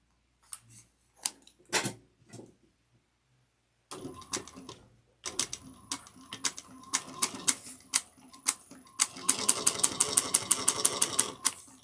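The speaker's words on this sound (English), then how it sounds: "we're going to sew it together using a 1/2 inch seam allowance" A sewing machine stitches a tote bag seam, starting in short hesitant bursts and then running in a fast, steady, close mechanical clatter, with no talk.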